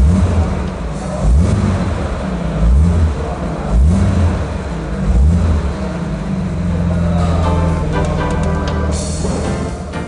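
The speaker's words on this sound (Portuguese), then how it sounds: "Quando você liga esse automóvel, não parecem que tem cavalos de potência dentro do motor" A 1964–1967 Jaguar XKE 4.2 Series 1 engine starts and revs repeatedly in deep surging pulses, then settles into a steady rumbling idle, loud and close.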